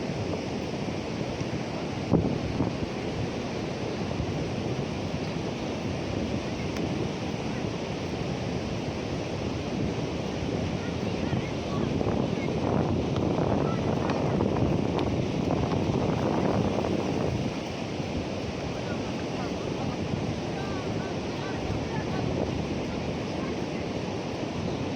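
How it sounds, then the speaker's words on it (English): Sea waves rolling in at a polluted shore in Casablanca as the tide rises, a steady loud wash of surf blended with gusting wind buffeting the microphone throughout. "And the sea is coming up"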